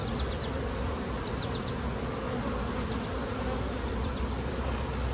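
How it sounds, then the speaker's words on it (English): Honey bees buzz in a steady, dense drone around an open hive during a Demaree swarm-control inspection, with a few louder individual bees passing close over the continuous hum. "Look at all those bees attending to her."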